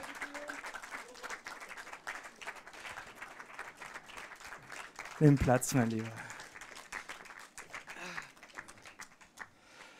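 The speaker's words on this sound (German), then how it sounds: "Ja, großen Applaus, Axel Ranisch" An audience applauds at a German film preview screening of Orphea in Love with director Axel Ranisch present. Light, scattered clapping runs throughout under someone speaking, with a brief louder burst of sound midway.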